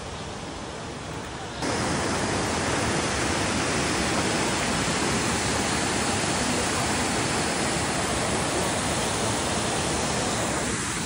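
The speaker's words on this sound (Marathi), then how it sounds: "हा ट्रायबर्गमधील अतिशय महत्त्वाचा पॉईंट म्हणजे धबधबा" Triberg waterfall in Germany's Black Forest roars as a steady, dense wash of falling water. It jumps louder after a second or two and then holds that full, unbroken level to the end.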